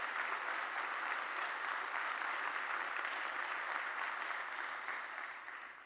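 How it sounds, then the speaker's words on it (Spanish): Steady, dense applause from a large conference audience, sustained throughout before gradually fading at the end. "por ese aplauso tan cariñoso"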